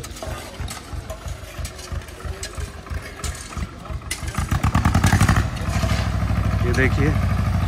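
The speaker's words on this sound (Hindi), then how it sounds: "ट्रैक्टर, जेसीबी, बड़ी बड़ी मशीनों का प्रयोग किया जा रहा है।" A tractor and JCB excavator work on a new mountain path to Kedarnath temple. A nearby diesel engine chugs in a rhythmic pulse, then swells louder into a steady, rumbling drone with clattering.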